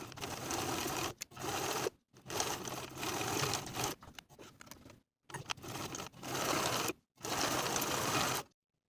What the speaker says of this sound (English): Sew the shoulder seams with a 5/8 inch seam allowance and press the seams open.